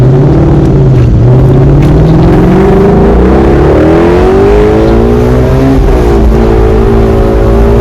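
A flat-plane crank car engine revs hard while driving, a loud, close, continuous growl whose pitch climbs and dips with the throttle across the whole stretch, with no voices.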